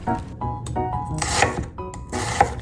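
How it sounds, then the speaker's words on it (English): An onion being sliced thinly with a knife for miso soup, heard as close, repeated scraping and rubbing strokes against a wooden board, with a couple of sharper cuts and no talking. "And then cut the onion into thin slices of about 5mm."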